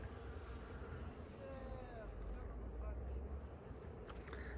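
A bee buzzes faintly around a blossoming peach tree in early spring in Crimea, a thin wavering drone drifting in and out over steady outdoor wind noise.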